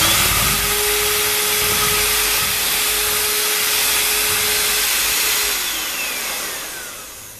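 An electric mixer running on high whips a frothy mixture, a loud steady whirring drone that holds for several seconds, then eases off and winds down toward the end; no talking.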